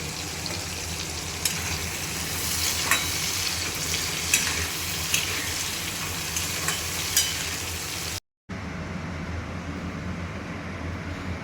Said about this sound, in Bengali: আমি আলুগুলোকে এরকম একটু নুন হলুদ দিয়ে হালকা করে ফ্রাই করে নিলাম